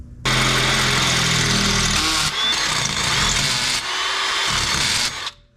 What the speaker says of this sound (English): I just need to drill a new hole